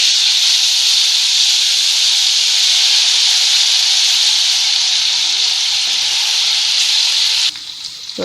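Brinjal pieces dropped into a hot pan with curry leaves and turmeric give a loud, steady, close sizzle that runs unbroken for several seconds, then cuts off abruptly and leaves a brief clatter at the end.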